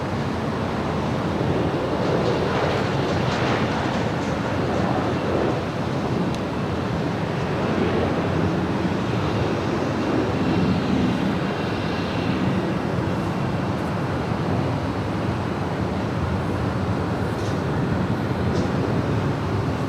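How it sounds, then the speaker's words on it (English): A Delta Airlines Boeing 737-900ER jet bound for Las Vegas passes near LAX in the evening, its broad steady engine roar filling the whole stretch at an even, loud level with wind-like rushing, no talk. "That is Delta Airlines Flight 2562 heading to Las Vegas, Nevada. It's a 737-900ER."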